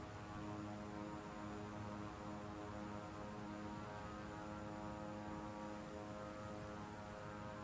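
A small propeller plane taxis in a flight simulator game, its engine a steady, close drone with a constant buzzing hum that holds unchanged throughout, alone with no talking.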